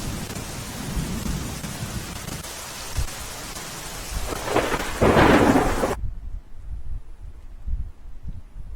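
Heavy rain pours down in Ahmedabad while thunder rolls in, building to a loud rumbling crack near the end before the sound cuts off abruptly.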